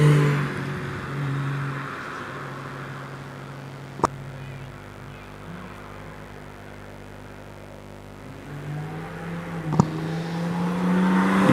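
A Triumph GT6 race car on a hillclimb run at Doune, its engine droning at moderate distance with shifting revs, two sharp clicks punctuating the run and the note rising again toward the end.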